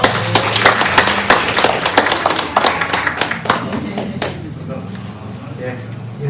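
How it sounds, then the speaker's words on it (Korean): Warm applause from attendees at an apartment remodeling briefing for LG Metrocity, welcoming GS Engineering & Construction staff: loud, dense clapping that thins out and dies away after about four seconds, leaving a quiet room hum. "서울에서부터 먼 길 내려오신 우리 LG GS건설 관계자분을 뜨거운 박수로 환영해 주시기 부탁드립니다"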